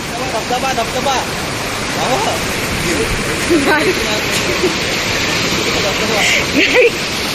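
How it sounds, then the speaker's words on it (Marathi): Rushing stream water pours steadily in a broad, continuous wash, with people talking over it throughout. "इकडनं पाणी येतंय मस्त बघा"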